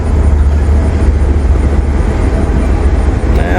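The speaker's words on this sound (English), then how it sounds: "Pretty looking locomotive." A Central of Georgia locomotive rolling slowly past, its heavy low engine rumble loud and steady throughout.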